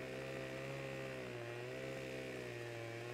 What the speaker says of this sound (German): ich versuche jetzt mal einfach ein bisschen noch kaputt zu sägen